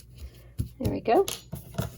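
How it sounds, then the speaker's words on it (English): Scissors snip away leftover yarn on the back of a solid granny crochet square, a few short close cuts and rustles mixed in with a speaking voice. "Cut off any extra yarn you see in the back"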